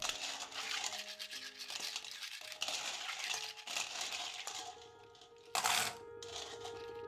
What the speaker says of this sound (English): thoroughly rinse the clams, scrubbing the shells against each other